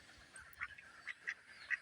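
A duck quacks faintly several times in short, separate honking bursts against a quiet background.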